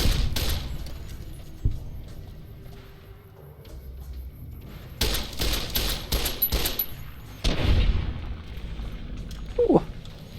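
Gunfire in Fallout New Vegas, with scattered single shots followed by a loud, dense cluster of rapid firing and booming impacts, then a few more bursts and a brief tonal effect.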